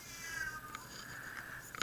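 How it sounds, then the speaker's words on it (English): A cat meows in drawn-out, singing tones, several wavering cries close by and moderately loud, the last one sharper and higher. "And the cat's still singing."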